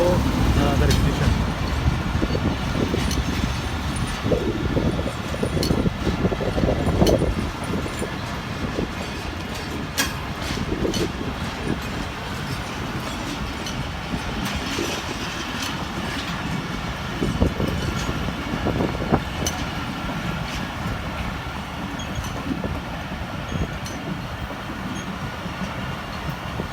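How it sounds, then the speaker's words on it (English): A large train rumbles steadily as it pulls into Nadi station, a continuous loud rolling roar with faint clacking of wagons throughout, no pause in the heavy mechanical noise. "right now this train come already here in Nadi station"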